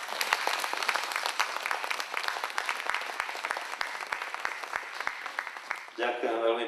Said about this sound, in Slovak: poprosím veľký potlesk pre pána primátora